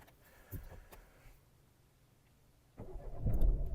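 A few clicks and a short cranking whir, a pause, then the 1.5-litre diesel engine of a 2013 Renault Megane 3 catches and settles into a rough, rumbling idle.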